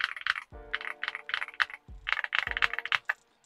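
Typing on a Yunzii B75 mechanical keyboard fitted with Leobog Graywood switches and 1.3 mm double-shot keycaps: crisp, close keystrokes in quick bursts, with a few deeper clacks from larger keys and short pauses between runs.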